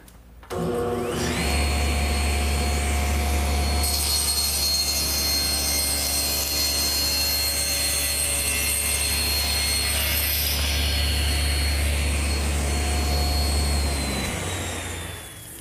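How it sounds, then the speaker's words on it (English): A table saw cuts a side panel held in a homemade panel cutter riding in the miter gauge slot, a loud steady whine that starts up, holds for about twelve seconds and then winds down. "I'm going to use my homemade panel cutter, which simply rides in the miter gauge slot"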